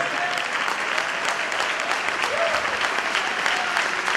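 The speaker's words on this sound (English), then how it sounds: "So can we give a round of applause for the sisters here who are supporting us?" Sustained audience applause at a conference hall fills the whole stretch, a dense steady wash of many hands clapping with no voices standing out.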